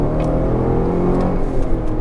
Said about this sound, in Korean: 가속을 한번 해볼까요?